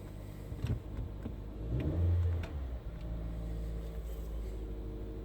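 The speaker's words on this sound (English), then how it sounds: "let's make sure that the fuel pump is working. It's running smoothly." A fuel pump runs in a 2014-2020 Nissan Rogue, giving a steady low engine-like hum and whir close by, swelling briefly about midway before settling back to an even drone with a few faint clicks and knocks.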